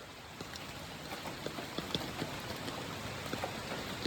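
Soft steady rain with scattered drops tapping a nearby surface, gentle and even throughout.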